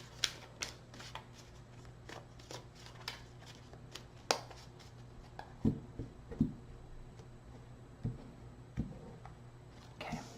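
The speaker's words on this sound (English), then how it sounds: "Two more shuffles." Repeated riffle shuffles of a card deck, crisp fluttering bursts at irregular intervals with soft taps between, close and fairly quiet.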